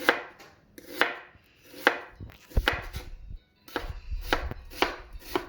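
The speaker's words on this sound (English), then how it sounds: "I'm just gonna start cutting from the side" A knife cuts through an onion on a cutting board in about eight crisp, evenly spaced strokes, each one a close, clear chop with short pauses between.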